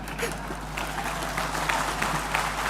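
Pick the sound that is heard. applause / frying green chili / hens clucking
applause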